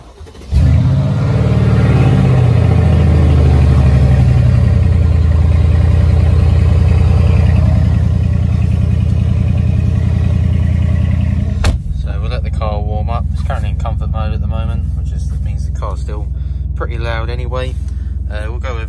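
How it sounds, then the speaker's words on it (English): A Mercedes-AMG GLE 63 S 4MATIC with its 5.5 V8 cold-starts with a loud crank and bark, then settles into a steady, rumbling high idle for many seconds, close and prominent, with a sharp click near the end. "foot on the brake we'll open up the door as well just to get the cold start in"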